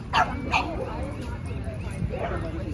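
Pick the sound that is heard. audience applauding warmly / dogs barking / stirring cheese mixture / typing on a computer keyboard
dogs barking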